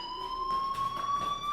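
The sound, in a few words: school fire alarm in video game Life is Strange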